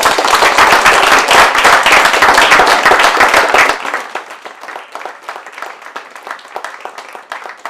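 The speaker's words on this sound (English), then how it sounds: "let's give them a big round of applause" A crowd at a Lowell National Historical Park program on calling track and military cadence calls claps loudly for a few seconds, then the applause drops off to scattered, fading claps.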